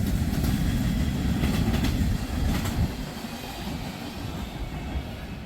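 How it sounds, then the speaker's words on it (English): A freight train, train 268, including a denatured alcohol tank car, rumbles past close by, heavy low roar with rhythmic clacking of wheels over rail joints, fading slightly as it moves on. "That was train 268."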